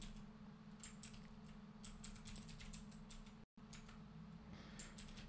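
Keys on a computer keyboard being typed while text is entered in Vim, quick quiet clicks coming in short bursts with brief pauses against a low room hum, one instant of dropout, no speech.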